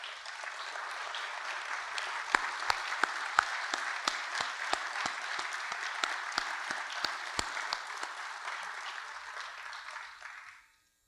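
Sustained audience applause for city employees standing at a mayor's State of the City address, a dense wash of many hands with a few sharp louder claps, steady for about ten seconds before fading out.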